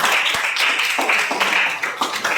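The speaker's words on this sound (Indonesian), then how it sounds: "Tepuk tangan untuk kita." Classroom of students claps hands together, a brisk uneven patter of several people clapping at close range for a couple of seconds, with no talking.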